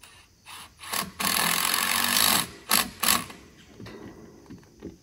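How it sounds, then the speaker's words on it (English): A power drill bores a pilot hole into a wooden deck post made from sawmill lumber, a sustained whirring grind for about a second, followed by short bursts and light handling sounds. "I pre-drill again into the post"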